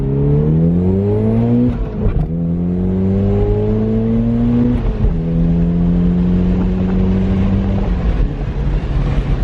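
A Toyota MR2 fitted with a new exhaust accelerates hard in first gear and up through shifts, loud close engine roar with rising tone and brief drops at each gear change, no talking.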